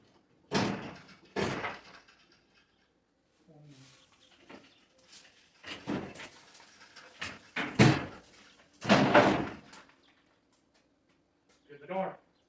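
A door is shifted around inside a garage during work on a 1966 Ford F100, with scattered thumps, scrapes and knocks at irregular intervals between quiet gaps and brief talk.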